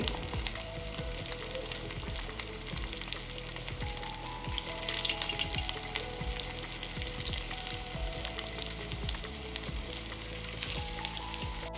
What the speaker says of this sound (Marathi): आता यामध्ये एक एक कबाब सोडून घेऊया